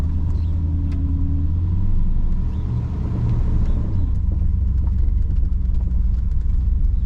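A 1968 Chrysler Imperial with a 440 engine runs at a steady low rumble as its transmission engages, a loud, close idle with a slight shift in tone partway through, no talk.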